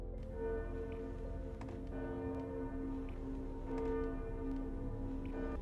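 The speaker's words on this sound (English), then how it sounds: "And then we hear the bells ring." Bells ringing in a Game of Thrones scene, several sustained resonant church-bell tones struck in a slow irregular pattern, ringing out and overlapping at a moderate distance.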